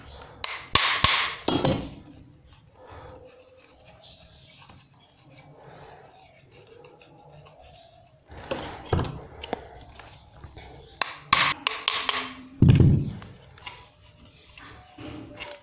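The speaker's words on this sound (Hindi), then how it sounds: "अब ये थोड़ा सा जाम हो चुका है तो हम इसे प्लास की सहायता से इसके चारों तरफ मारना है" Pliers tapping around a jammed, burnt-out motor armature, giving clusters of sharp metallic knocks near the start and again later, with quieter handling noise between; close and fairly loud, no talk.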